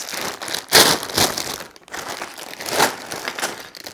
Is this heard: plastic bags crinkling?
yes